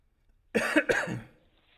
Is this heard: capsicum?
no